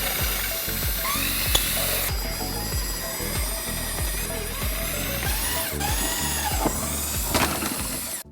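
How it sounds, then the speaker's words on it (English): Hand ratchet with a 1/2-inch socket working the eight bolts on a Jeep Wrangler JL spare tire carrier, a steady run of rapid metallic clicks that continues loud and close throughout with no talking. "This is going to use a 1/2-inch socket, go around the perimeter and loosen up all 8 of the bolts"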